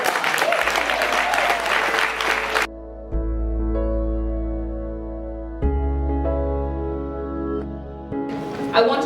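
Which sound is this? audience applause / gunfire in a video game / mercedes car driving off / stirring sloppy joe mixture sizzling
audience applause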